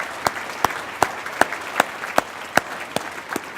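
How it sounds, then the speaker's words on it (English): Sparse, isolated claps ring out in a steady rhythm, roughly two or three per second, as a small audience applauds veterans at a leadership talk, with a faint murmur underneath. "have a little round of applause and recognition for them"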